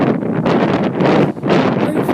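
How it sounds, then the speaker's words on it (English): Heavy wind buffets the microphone in loud, rumbling gusts that swell and ease, close and continuous, with no one speaking. "it's a bit windy now, isn't it?"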